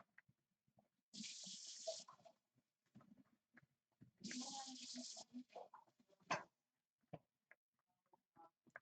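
Tap water runs into cups in two bursts, each about a second long, with quiet clinks and small handling sounds between them in a kitchen.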